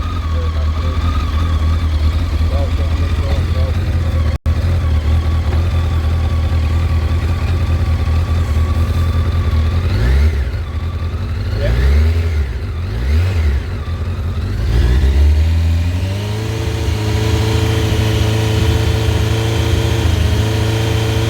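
A car engine revs to around 3,500 rpm, holding a loud, steady hum close by before the pitch rises and falls as the throttle changes, then it settles back, with no talking.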